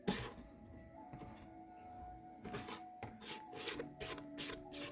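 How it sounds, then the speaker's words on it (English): A spatula scrapes down a mixing bowl of cookie dough in soft, raspy strokes, faint at first and then louder, quicker swipes toward the end. "Let me scrape the bowl down."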